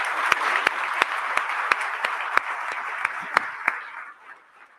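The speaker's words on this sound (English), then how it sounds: "Let's have a round of applause for all of those people" Applause from an audience at a live-streamed Ohio State University event, steady dense clapping with a few sharper claps standing out, then fading away toward the end.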